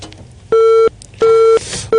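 A radio station phone line gives off loud, regular beeps after a call-in caller drops: three evenly spaced electronic tones, each lasting about a third of a second, separated by short gaps of line noise.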